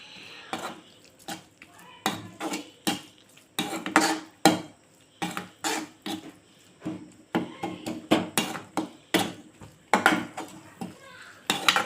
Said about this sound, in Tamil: அரைச்ச இந்த கலவையை நல்லா இந்த தக்காளி வெங்காயத்தோட நல்லா மிக்ஸ் பண்ணி நல்லா இது மாதிரி கிளறி விட்டுக்கலாம்